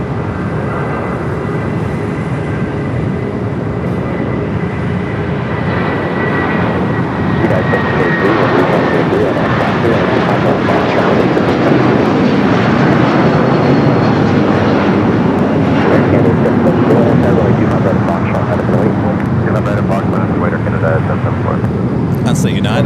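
A United Boeing 757 jet bound for Chicago O'Hare roars loudly and close over LAX, its broad engine rumble swelling and holding steady with a thin whine above it.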